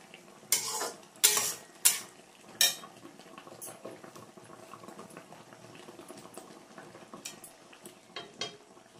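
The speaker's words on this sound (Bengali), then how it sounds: "এবার একটুখানি নেড়ে চেড়ে দিই" A spoon stirs mango chutney in a cooking pot, with a few sharp scrapes and knocks early on, then a soft continuous bubbling and faint clinks.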